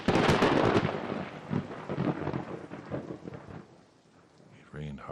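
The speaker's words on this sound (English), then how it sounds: "It rained hard that night." Heavy rain pours down at night with thunder rumbling through it, loud and dense at first, then easing toward the end before a fresh burst of crackling thunder.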